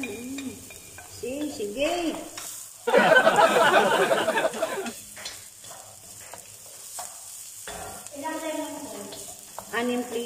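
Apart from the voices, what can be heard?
garlic frying with chicken in a pan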